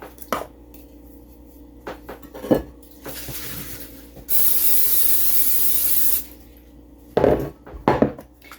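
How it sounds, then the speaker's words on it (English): Nonstick cooking spray hisses onto a baking dish in one steady, loud two-second burst, with light clinks and handling of the dish before and after. "I've just sprayed it with some nonstick spray."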